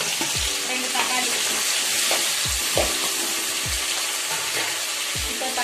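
Two tomatoes sauté in hot oil with green chilies and curry leaves for a fish curry: a loud, continuous close sizzle with regular clinks and scrapes of stirring about once a second, and no talking.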